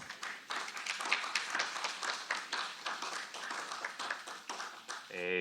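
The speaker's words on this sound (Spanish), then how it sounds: "recibir con fuertes palmas a David Abelo" An audience at a political communication congress in Peru applauds with a steady patter of many hands, fairly quiet and even, ending as a voice begins right at the close.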